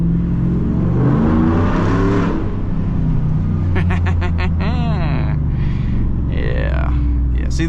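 A car fitted with a Borla ATAK exhaust, switched to manual mode, idles with a deep rumble, then is revved several times in quick succession, loud and close.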